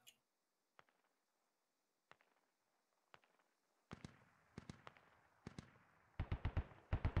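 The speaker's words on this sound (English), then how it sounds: "Ooh, mortars on the fob." Mortar shells exploding in the military video game Squad, a series of sharp, distant bangs, sparse at first and then coming in quicker, louder clusters toward the end, with no talk.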